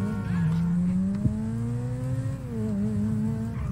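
Car in a video game revving, with its turbo whining above the engine note, a continuous tone that rises and falls in pitch over a few seconds, close and steady with no talk over it.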